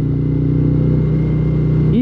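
A Harley-Davidson Road Glide Special idles steadily up close, a loud, continuous low rumble with an even throb and no other sounds.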